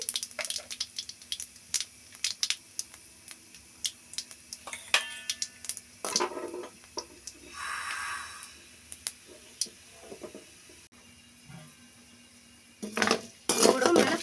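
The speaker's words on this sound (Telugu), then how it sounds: "పసుపు వేసినాక దోరగా వేపుకోవాలండి మినప్పప్పు మాడకూడదండి" Mustard seeds, cumin, urad dal and turmeric roast in a pan, with scattered light clinks and scrapes of a spoon against metal and a soft sizzling swell midway.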